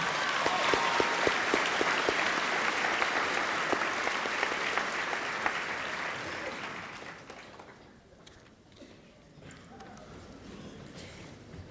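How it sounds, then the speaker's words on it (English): A high school senior assembly audience in a gymnasium-style hall applauds loudly and densely for several seconds before the clapping thins out and fades into quieter room murmur. "Let's give our homeroom teachers a round of applause."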